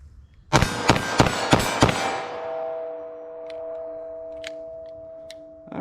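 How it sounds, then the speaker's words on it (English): Five sharp 9mm handgun shots fired with Sellier and Bellot XRG lead-free hollow points from a short barrel, spaced roughly a third of a second apart, loud and close, with ringing echo and hum trailing off afterward. "Pull up, get a sight picture, and pop off a few rounds. So let's see what I can get here with our 9mm."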